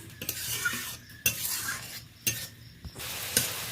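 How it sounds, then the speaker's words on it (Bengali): Ginger paste being stirred into frying onion, tomato and green chilli: sizzling in the pan, broken by a few sharp metal spoon knocks and scrapes against the pan, close and clear. "আদা বাটাটা ভালো করে মিশিয়ে নিলাম।"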